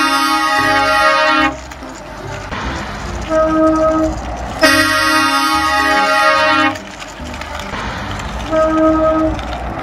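A big tronton truck horn blares in long sustained blasts. Two loud horn bursts are each followed by a shorter, quieter tone, with the blasts repeating over a rumbling background.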